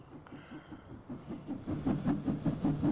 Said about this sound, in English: Kind of an old locomotive.